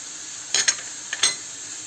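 Peppers and garlic sizzling as they are stir-fried in a pan, with a few short bursts of scraping and hissing about half a second apart against a quiet background.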